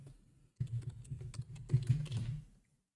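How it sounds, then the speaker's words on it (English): Quick keystrokes on a computer keyboard as a comic title is entered into a website search bar, a short close burst of irregular clicks and taps lasting about two seconds with no voices. "I'm actually typing in Worldwide in the search bar"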